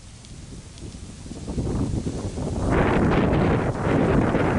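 Blustery wind buffets the microphone outdoors on a hunt, a rough, low rumble that steadily builds in strength and stays loud and roaring toward the end.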